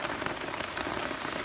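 Steady rain falls on a garden on a wet day, an even, close hiss of drops with no pauses and no voices.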